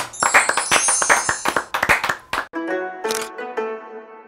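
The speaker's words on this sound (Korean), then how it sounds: "우리 같이 한번 박수 한번 칠까요?" A small group claps hands in a short burst of sharp, uneven claps during a guided historical tour, fairly close, before the clapping stops and a brief musical sound follows.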